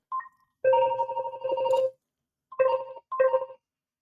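A telephone ringing nearby in a workshop, a short chirp followed by one long electronic ring and two shorter rings with gaps between, clear and alone.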